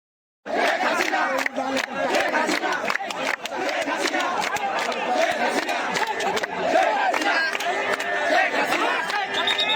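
Protesters chanting slogans at a street protest with soldiers standing beside them, a loud crowd of voices shouting in rhythmic bursts with overlapping chatter, continuous after a brief silent start.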